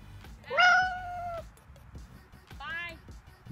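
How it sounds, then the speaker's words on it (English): A cat gives two distinct meows, a longer loud one followed by a shorter, fainter one, set against low background noise. "Cat!"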